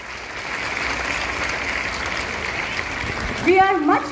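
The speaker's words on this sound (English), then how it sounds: "Kindly give him a huge round of applause." An audience at a school investiture ceremony applauds steadily in a packed hall, a continuous even clatter of many hands before a voice begins speaking over it near the end.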